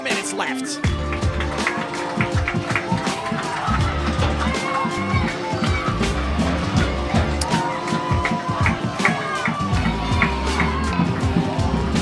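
A soccer crowd at an APSL Metropolitan Conference semifinal between NY Greek Americans and Lansdowne Yonkers FC roars and chants steadily, loud and continuous, with music and scattered shouts mixed in.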